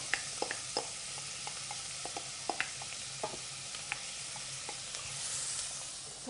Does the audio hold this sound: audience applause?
no